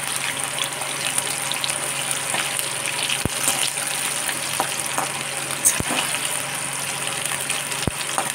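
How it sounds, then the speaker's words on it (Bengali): Cauliflower and potato pieces fry in a modest amount of oil, giving a constant close hiss and sizzle with occasional sharp clicks of a spoon or pan throughout. "এইভাবে এটাকে ফ্রাই করবো ভালো করে"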